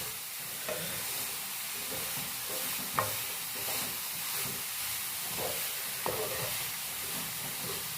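Leafy greens cook in an open pan while being stirred, a soft hissing sizzle punctuated by occasional scraping taps of the spoon against the pan.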